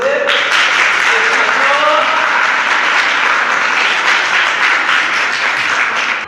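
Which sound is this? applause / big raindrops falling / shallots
applause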